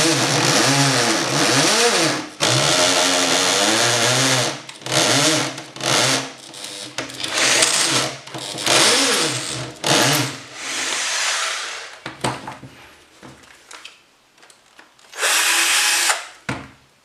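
A power drill boring holes into a panel while building a desk, loud and close, with repeated bursts of whirring that rise and fall in pitch, separated by brief pauses and followed by a final short run.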